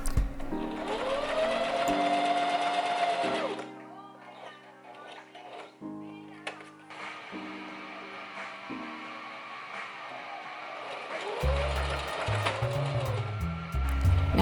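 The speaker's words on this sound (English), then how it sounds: "I believe I'm kind of sewing it to the bag." A sewing machine stitches a recycled fabric lining onto a handmade bag, running in loud, close bursts of rapid needle chatter with short pauses between runs.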